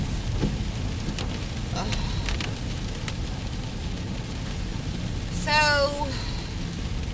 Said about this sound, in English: Oh, this rain is just ridiculous.